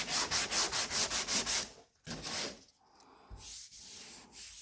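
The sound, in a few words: sanding car body panel with a round durablock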